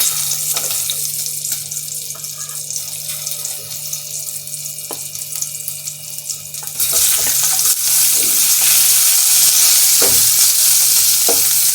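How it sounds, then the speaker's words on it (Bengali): Oil hisses quietly in a pan, then erupts into a loud, steady sizzle as onions are added after green chilli and black cumin seeds, crackling continuously. "কাঁচা লঙ্কা আর কালো জিরে ফোড়ন দিয়ে এবার আমি পেঁয়াজগুলো দিয়ে দেবো এর মধ্যে"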